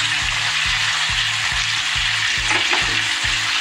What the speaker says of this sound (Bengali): চিকেনটা হালকা করে ভেজে নিয়ে এতে দেবো 1 চামচ পেঁয়াজ বাটা, 1 চামচ দেবো আদা আর রসুনের পেস্ট।